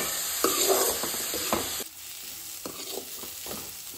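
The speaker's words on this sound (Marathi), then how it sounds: "कांदो जो आसा पळय न्हू तो हांगासर मोव जाया म्हणून हांवें भाजून घेतला." Sliced onions sizzling in oil in a pan for Goan prawn biryani, with a steady hiss broken by a few scraping stirs and no talking.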